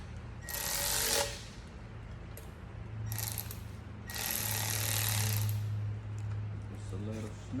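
Short ratcheting bursts from a hand tool tighten a bolt on a Suzuki DRZ motorcycle, three bright clicking runs at close range over a low background hum, with a voice talking nearby.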